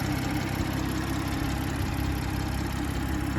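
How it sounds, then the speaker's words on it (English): A 2019 BMW M240i direct-injection engine idles with its injectors ticking, a steady close mechanical hum carrying a fine clicky texture throughout, with no voices. "these engines, because of direct injection, they're a little clicky. But you can hear that the fuel being injected."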